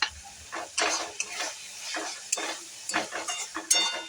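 Yogurt thinned with water being stirred into okra masala frying in a pan, repeated scraping strokes over a steady sizzle, close and fairly loud with no talking.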